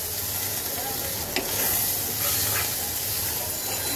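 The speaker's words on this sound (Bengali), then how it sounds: "এবার এটাকে সুন্দর করে কষাতে হবে।" Spices sizzle and hiss in a pan while being sautéed with coriander powder, chilli and salt for a low-oil shing fish curry, a continuous close frying sound with occasional stirring scrapes.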